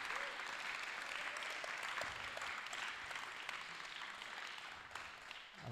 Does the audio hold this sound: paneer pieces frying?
no